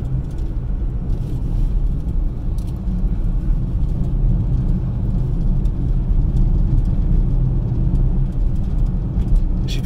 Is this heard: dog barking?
no